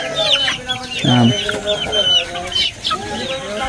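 Several chickens cluck close by, overlapping with occasional sharper calls and bits of background chatter.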